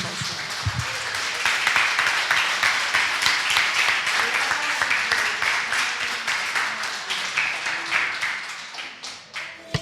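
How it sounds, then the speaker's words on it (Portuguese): Dense, sustained applause from a large church congregation fills a reverberant hall, steady throughout with scattered sharper claps and a few brief shouts. "Em nome de Jesus, vamos aplaudir esse Deus maravilhoso, amém?"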